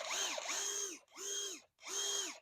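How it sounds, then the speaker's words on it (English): A cordless power drill whirs in three short bursts, each spinning up and winding down, close and clear with brief pauses between. "a drill, cordless"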